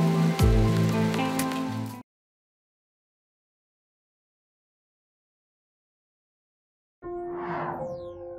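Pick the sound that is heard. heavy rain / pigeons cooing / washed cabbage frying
heavy rain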